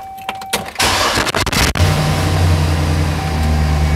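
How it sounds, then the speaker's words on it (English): Car engine held at a steady raised idle of about 2500 RPM during an alternator test, a loud close drone after a few clunks and a sharp mechanical knock at the start. "I like to rev it up to about 2500 RPM when I do this test"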